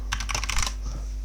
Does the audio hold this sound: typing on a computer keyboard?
yes